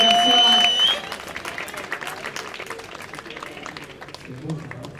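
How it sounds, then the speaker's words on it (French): An audience at a padel match applauds player Aitor Garcia, scattered clapping that follows a loud voice at the start and continues at moderate level, thinning toward the end. "On va faire du bruit, messieurs, dames, on va les applaudir."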